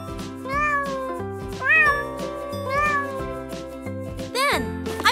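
Several cat meows rise and fall over steady background music, with a brief bright jingle near the end; no talking is heard.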